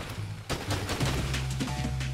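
Rapid gunfire bursts from shooting in the video game Pepper Grinder, a steady rattle of shots over sustained game music throughout.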